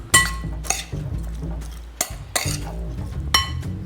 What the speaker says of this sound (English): Let's add our dressing. Gonna mix that a little more.